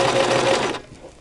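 A Brother LX3014 sewing machine stitches a face mask lining in a steady, loud, fast whirr lasting just under a second, then stops.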